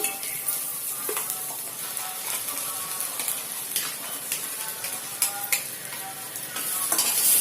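Taro root curry with ground masala paste sizzles and fries in a pan while a utensil stirs it, with soft scraping and crackling spatters, close by and fairly quiet.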